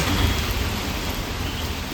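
Heavy downpour on an office street during a cold, rainy spell in Kerala, a dense, steady roar of rain hitting surfaces, loud and continuous throughout with no voices.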